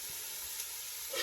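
Onions and crushed garlic frying in a pan on an AGA range, a steady close sizzle and hiss that swells slightly near the end.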